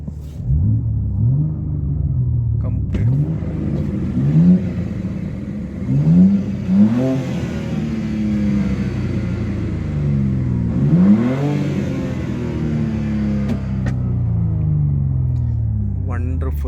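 BMW M2 coupe with a six-speed manual revving repeatedly, engine note sweeping up and down in loud, close bursts over a steady rumble, with someone talking at points.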